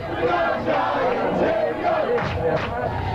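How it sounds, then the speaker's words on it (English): Excited New York Giants fans yell and cheer together at the opening kickoff of Super Bowl XXI, a loud, dense crowd roar with rising shouts throughout. "The frenzy began with the opening kickoff as the crowd started to get excited."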